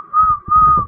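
Two sustained human whistles, each a steady high note, loud and close, separated by a brief gap. A faint low rumble sits beneath them.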